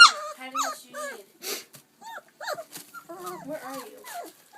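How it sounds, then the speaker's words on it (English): Chocolate lab puppies whimper, yip and give short high barks in quick overlapping bursts, close up, with little pause between cries. "What you barking at?"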